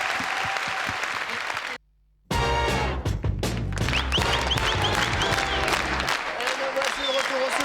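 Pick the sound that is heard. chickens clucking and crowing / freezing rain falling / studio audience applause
studio audience applause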